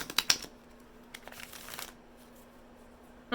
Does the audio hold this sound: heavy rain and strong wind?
no